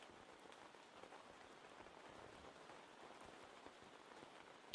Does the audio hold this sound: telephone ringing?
no